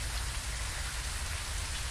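Steady, dense rain falls throughout in the ghost-hunting video game Phasmophobia at a campsite, a constant broadband hiss with a low rumble beneath, unbroken and fairly loud, with no voices.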